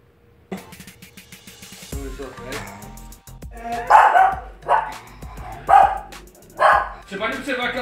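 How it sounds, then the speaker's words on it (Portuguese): A frightened schnauzer barks in loud, close bursts, a few spaced barks then a rhythmic run of sharper yelping barks, with people talking in between. "Ela late pra avisar, pra tentar assustar a gente."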